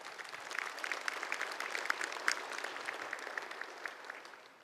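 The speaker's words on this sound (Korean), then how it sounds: "큰 박수 부탁드립니다" An audience at a 2024 South Korean regional forum applauds a broadcasting company chairman: brisk, crisp clapping from a sizable crowd with a few sharper claps standing out, holding steady and then tapering off at the end.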